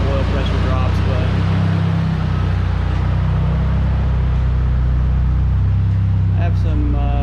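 A Mitsubishi Eclipse GSX, once headed for the scrapyard, idles with a steady, loud, low droning hum and can grow noisy as oil pressure drops on a long idle; someone talks over the engine.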